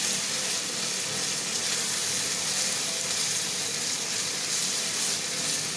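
Minced meat keema and peas fry in oil in a pot, making a loud, steady, close sizzle and hiss that carries on without a break and with no voices.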